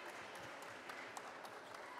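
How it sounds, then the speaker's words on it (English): Applause from an audience at a school event for Horace Greeley High School 10th graders, a steady wash of clapping held at an even level for the whole two seconds. "let's give them all a round of applause from the Horace Greeley High School 10th graders"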